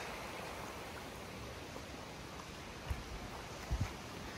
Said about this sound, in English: Beautiful streams.